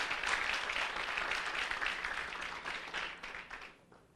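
A church gathering bursts into sustained applause. The dense clapping is heard from a little distance at moderate level and fades out at the end.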